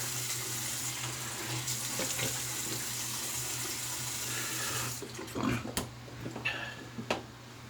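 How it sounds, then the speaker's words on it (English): Running tap water in a sink while rinsing off after a first shaving pass with a Merkur 34C safety razor and Speick cream, a steady close rush that breaks into splashes and sputters toward the end. "So let's rinse off"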